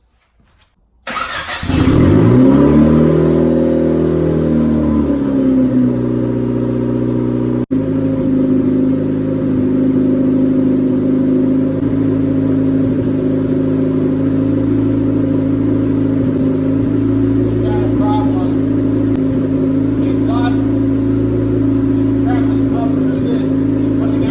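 A compound-turbo D15 Honda Civic hatch engine with a Saab turbo and a giant HX55 turbo cranks and roars to life close by, then settles into a loud, steady rumble that holds without a break.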